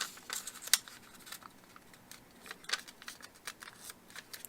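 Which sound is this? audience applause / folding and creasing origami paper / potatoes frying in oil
folding and creasing origami paper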